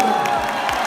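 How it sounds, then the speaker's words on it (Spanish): A crowd cheers and applauds after a freestyle rap battle, a brief dense burst of clapping and shouts filling the space at close range. "Muy bien, un fuerte aplauso."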